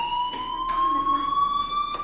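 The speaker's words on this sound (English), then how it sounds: "do you hear that fire alarm? That means you should be outside." A fire alarm in the video game Life is Strange sounds a steady, piercing electronic tone that holds without pause, loud and even, with faint background noise beneath.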